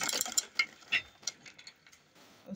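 A sewing machine stitches a fabric fanny pack, giving quiet, close mechanical clicks and whirring bursts in an uneven rhythm with no talk.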